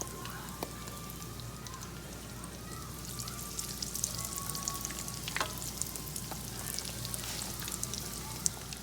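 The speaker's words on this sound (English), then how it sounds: "I'm going to put the first batch of pork right into my pan. And I'm going to fry it just for a couple minutes on each side." A first batch of pork sizzles and fries steadily in a pan, a dense crackling hiss with occasional louder pops and spatters running throughout, no voices heard.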